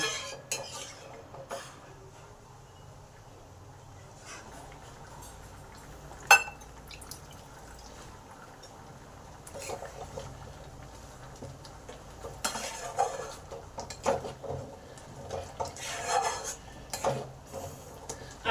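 Spoon stirring pancharatna lentil dal in a cooking pot, faint scraping and clinking against the metal, with occasional louder knocks, quiet throughout and with no talk.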